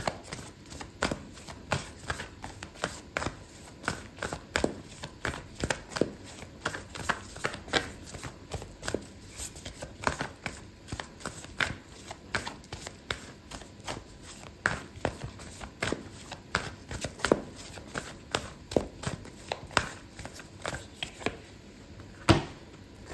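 Oracle cards shuffled by hand in a steady stream of soft papery riffles and slaps, close and fairly quiet, repeating rhythmically throughout with no talking.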